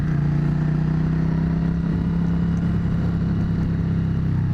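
Suzuki Intruder motorcycle engine running steadily nearby, a loud continuous low hum and rumble with a faint mechanical clatter, holding an even idle throughout with no talk.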